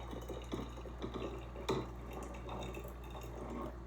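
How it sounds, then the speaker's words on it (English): Hot, steaming water poured into a beaker in a classroom science demonstration, a soft steady liquid trickle and splash at close range over a constant low electrical hum, with a few faint knocks of glassware. "So I'll pour the same amount as the cold water."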